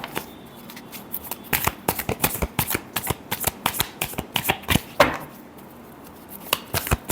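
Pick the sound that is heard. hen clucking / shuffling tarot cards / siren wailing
shuffling tarot cards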